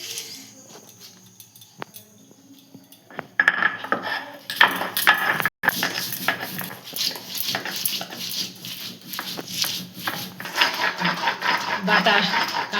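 Mustard seeds and cumin ground together into a spice paste for a spicy puti fish curry: a quiet start, then a loud, steady grinding roar that runs to the end, broken by one brief dropout.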